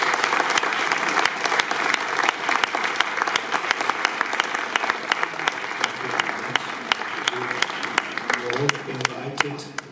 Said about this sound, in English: The three of you deserve a big applause for...